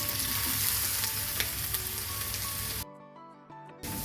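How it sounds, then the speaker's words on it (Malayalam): Ginger hisses and crackles as it fries in hot oil for an Onam Kottayam-style ginger curry. The sizzle is loud and continuous, then briefly drops out before resuming. "അപ്പോൾ എണ്ണയിലോട്ട് നമുക്ക് ഇഞ്ചി ഇട്ട് കൊടുക്കാം."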